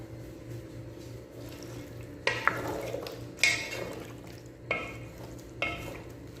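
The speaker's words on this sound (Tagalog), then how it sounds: "Lagyan natin ng isang basong tubig" Water poured from a glass into a pot of chicken afritada: a soft watery splash and stir under a faint background hum, with a few brief clinks and sharper splashy bursts toward the middle and end.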